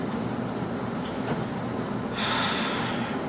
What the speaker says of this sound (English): So let's take some deep breaths.